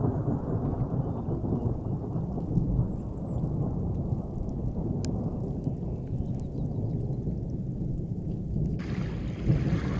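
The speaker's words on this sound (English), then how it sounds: "a storm rolled in with the longest thunders I have" Long, low rolling thunder rumbles on and on through a storm at a dispersed campsite, with steady rain beneath it and a brief brighter burst of rain noise near the end.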